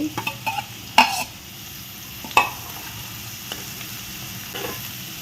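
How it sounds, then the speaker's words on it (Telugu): Sliced onions and green chillies sautéing in a pan for a brinjal-tomato curry, a soft steady sizzle broken by a few sharp clinks and scrapes of a spoon stirring, close by with no talk. "2 పచ్చిమిరకాయలు వేసిన తర్వాత కాస్త ఒక 5 మినిట్స్ మగ్గితే సరిపోతుందండి ఉల్లిపాయ."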